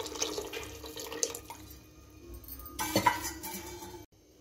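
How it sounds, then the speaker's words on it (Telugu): Water added to a pot of potato sambar with masala, a faint splashing pour with light clinks of a vessel, ending abruptly, no talk. "వాటర్ వేసుకోవాలి."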